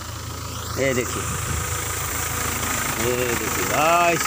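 A tractor engine drives mustard threshing in a farm field, a steady mid-pitched mechanical drone running throughout, with someone speaking over it in bursts.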